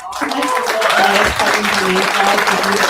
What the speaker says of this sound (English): give a round of applause to my